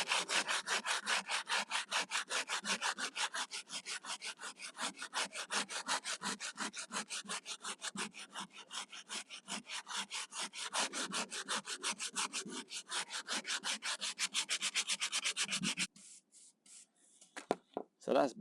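Sandpaper scrapes in quick back-and-forth strokes over a fibreglass roof to key it for paint, a dense rhythmic rasping that continues close and steady, then stops, leaving a few faint scuffs.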